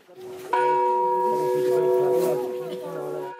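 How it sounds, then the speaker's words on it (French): A bell struck once at the summit of Adam's Peak in Sri Lanka after a pilgrim's climb, one loud clang with a long, steady ringing tone that fades slowly over a few seconds, with faint voices under it. "Un coup de cloche est sonné pour chaque ascension réalisée."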